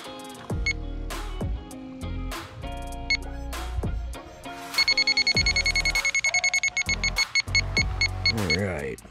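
An Elitech IR200 heated-diode and infrared refrigerant leak detector beeps near a welded fitting: spaced electronic tones at first, then a fast, loud train of beeps as the alarm rate climbs.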